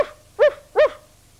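A puppy lets out two short, bright barks in quick succession, close and clear, with near silence around them.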